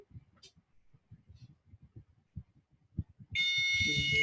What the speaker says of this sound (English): And this one beeps.